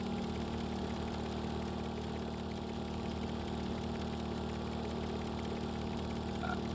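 A vehicle engine in the Stormworks video game runs at full throttle with a steady, droning hum that stays even and unbroken for several seconds.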